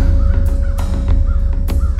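Crow caws from a storybook sound effect: three or four hoarse, rasping calls spaced irregularly over a steady low rumble, loud and close.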